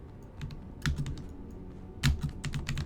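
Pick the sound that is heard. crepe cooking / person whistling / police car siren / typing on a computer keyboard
typing on a computer keyboard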